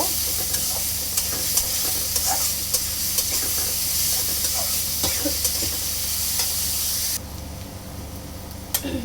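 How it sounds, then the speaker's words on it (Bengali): Chopped onion with a little salt frying in oil in a pan until light brown, a steady close sizzle and hiss with occasional stirring scrapes throughout, no talking. "পেঁয়াজটাকে আমি একটু হালকা বাদামি রং করে ভেজে নিব।"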